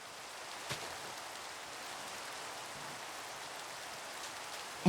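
Steady rain in the video game Minecraft, a soft even hiss of falling drops with a couple of faint taps, continuous and moderately quiet until a short blip at the very end.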